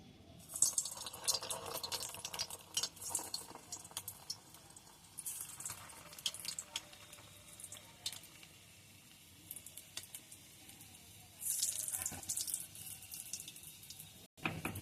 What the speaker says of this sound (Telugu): ఇప్పుడు డీప్ ఫ్రైకి ఆయిల్ పెట్టుకొని ఆయిల్ వేడైందండి ఇప్పుడు మనం చేసుకున్న పూర్ణాలని ఇందులో వేసుకుందాం